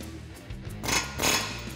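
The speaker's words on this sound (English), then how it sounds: "So I got my trusty air hammer back out." A pneumatic air hammer knocks a strut bolt loose on a 2021-2022 Ford Bronco during a suspension lift install, giving two short loud bursts of rattling impact over a low shop hum.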